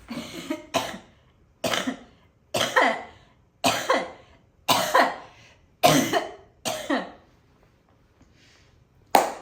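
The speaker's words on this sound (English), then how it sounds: "I have to cough again" A person coughs repeatedly at close range, about eight harsh bursts spaced roughly a second apart, then silence.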